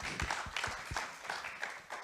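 Light, sparse applause from a small audience at a presentation, a handful of distinct claps over about two seconds, fairly faint.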